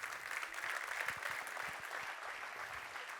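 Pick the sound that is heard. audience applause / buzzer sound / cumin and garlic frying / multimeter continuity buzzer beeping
audience applause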